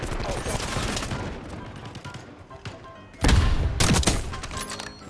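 Gunshots in the video game Black Ops 6 crackle through a constant battle din, swelling into a louder, harsher burst partway through.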